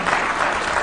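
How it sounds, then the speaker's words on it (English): Audience applause for the President of Kenya after a speech, a brief dense burst of clapping from a large crowd, loud and close. "A round of applause for His Excellency one more time."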